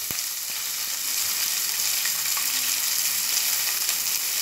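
Chopped onion hits hot oil with popped mustard seeds in a pan for a cabbage and peas fry, giving a loud, steady close-up sizzle that runs unbroken throughout, with a faint stir or two.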